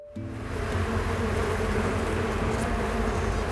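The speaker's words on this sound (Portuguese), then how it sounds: "de abelhas, são milhares, milhares de abelhas trabalhando todos os dias pela polinização da área do museu" Stingless bees swarm around a museum meliponary, a dense, steady buzzing drone that fills the whole stretch with no voices.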